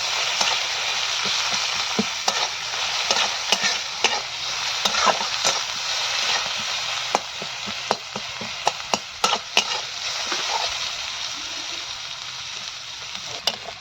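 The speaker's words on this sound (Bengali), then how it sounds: "পেঁয়াজগুলোকে হালকা লাল লাল করে ভাজবো" Chopped onions fry in hot mustard oil, a steady close sizzle broken by frequent scraping stirs of a spatula against the pan, with no talking.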